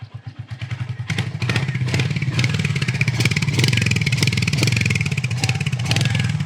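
A Royal Enfield Hunter 350 base-variant motorcycle engine idles briefly, then revs and holds at a higher, rough-edged drone, fairly loud and close.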